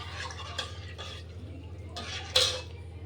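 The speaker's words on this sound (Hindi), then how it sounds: "अब गाइस मैं इसे इतनी देर तक चलाऊंगी यहाँ पर, जितनी देर तक ये इसमें उबाल नहीं आ जाता है" A spoon scrapes and clinks against a pot of kadhi being stirred on the stove, in scattered knocks over a low steady hum, with one sharper metallic clank near the end.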